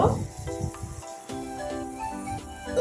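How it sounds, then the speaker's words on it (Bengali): Khesari greens sautéing in oil with spices in a pan, a steady low sizzle with stirring scrapes running throughout, moderately close and fairly loud, with no voices. "শাকটা খুব সুন্দর মশলার সঙ্গে কষিয়ে নিলাম"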